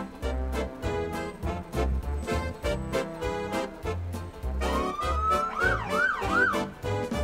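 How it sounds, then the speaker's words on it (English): Niagara Falls Fire Department truck siren at a Santa Claus parade, a rising wail sweeping up and down in the second half over a loud, thumping marching-band beat in the street. "Can we hear a big siren maybe? Big siren?"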